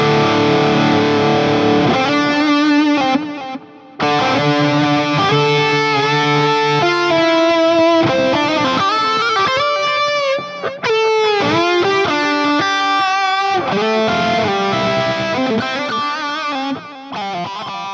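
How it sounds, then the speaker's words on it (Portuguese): An electric guitar plays a solo through reverb and delay effects, with sustained distorted notes, bends and quick runs that ring out and trail off, loud and continuous with a couple of brief pauses. "Olha que legal agora, reverb e delay juntos."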